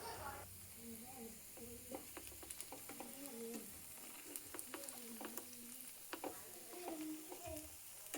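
Cauliflower pieces frying in hot oil for a beach-style snack, a steady soft sizzle with scattered pops and light clinks of stirring, faint and close, with a voice speaking quietly in the background.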